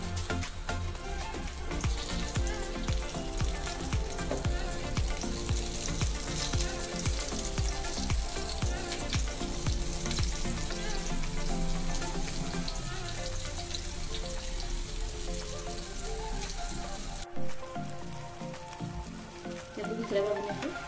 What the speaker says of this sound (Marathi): आता आपण ही फ्राय करून घेणार आहे। एकदम बारीक गॅसवर दोन्ही बाजूनी आपण फ्राय करून घ्यायचे।